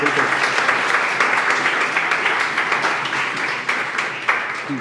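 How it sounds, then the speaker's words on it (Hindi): Children in a classroom clap loudly and continuously, a dense, bright patter of many small hands holding close and steady throughout. "एक बार बच्चों अपने लिए जोरदार ताली बजा लो प्लीज़।"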